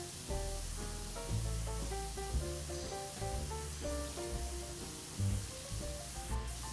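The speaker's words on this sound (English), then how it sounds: "it's the power washer spraying the frowny guy" A power washer sprays in a cozy cleaning video game set at a Christmas ice rink, giving a steady, continuous hiss beneath soft melodic game music.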